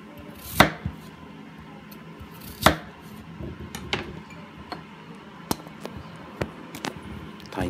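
A knife cuts a peeled potato into quarters on a cutting board, a few sharp irregular knocks with quiet gaps, close by and fairly faint.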